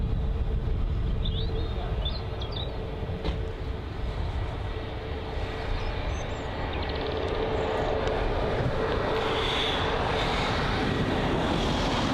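An Airbus A321neo at Bristol Airport gives off a steady, loud broadband jet roar with a faint high whine, continuous and unbroken throughout.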